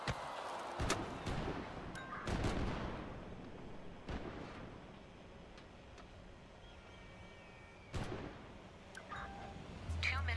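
A handful of sharp pistol gunshots in a shooter video game ring out at irregular intervals, some loud and close, others fainter, against a busy backdrop of game sounds and voices talking.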